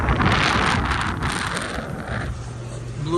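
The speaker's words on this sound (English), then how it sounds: "This is your roof AC." Roof air conditioner on a 2002 Winnebago Rialta 22FD VW Eurovan camper, blowing a steady, close, broadband airy rush that holds fairly even throughout.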